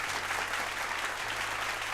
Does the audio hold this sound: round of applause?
yes